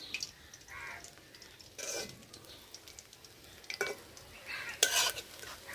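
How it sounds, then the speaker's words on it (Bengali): Prawn kofta fritters sizzle in a frying pan while a utensil stirs and scrapes them, giving a few louder clinks and scrapes over a steady low hiss, with no talking. "হালকা আস্তা করলে ভিতরটাও ভাজা হইব, উপরটাও ভাজা হইব সুন্দর।"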